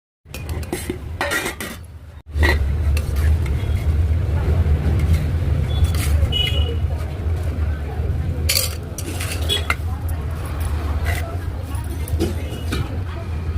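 Boiled banana flower is tipped out of a metal pot onto a plate, its water pouring out in a steady, rushing splash with a few metallic clinks, while a person talks throughout.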